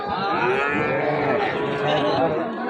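A cow moos loudly and steadily for nearly three seconds, close at hand, at a cattle market with young heifer calves.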